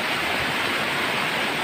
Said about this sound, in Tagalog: Ang laki po ng ilog, grabe.